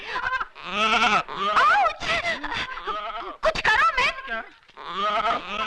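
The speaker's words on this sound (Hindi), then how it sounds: "बकरी।" A goat bleats loudly and repeatedly up close, with wavering, nasal calls in quick bursts, while someone speaks Hindi in a Bollywood film scene.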